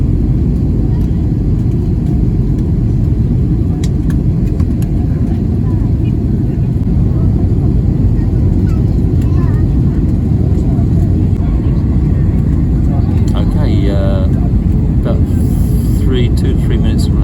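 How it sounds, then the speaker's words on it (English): Passenger airplane cabin on final approach to landing: a steady, loud, broad engine and air roar runs throughout, with faint brief chimes or clicks near the end. "we're just coming in for final approach"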